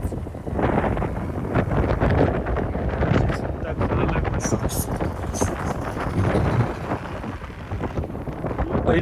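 Strong wind roars and buffets the microphone near a village temple, a loud continuous rumble with gusty surges throughout.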